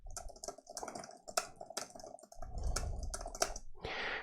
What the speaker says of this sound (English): Now let's check the keyboard.